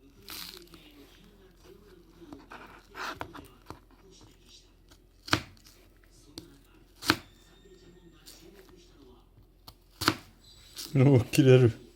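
A short knife cuts food over a campfire lunch outdoors, giving a few sharp isolated cuts spread through a quiet stretch and a brief crunchy burst near the end.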